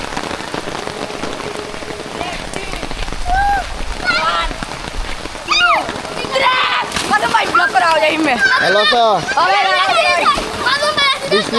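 Steady rain pours down on surfaces at a fish market in Hossainpur, a dense hiss throughout, while children bathing in a pond shout and call nearby over it.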